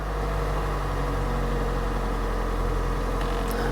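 A Kia engine under recall inspection runs at a steady held speed of about 1400–1500 RPM, giving a constant, close, even drone with a low hum and no change in pitch.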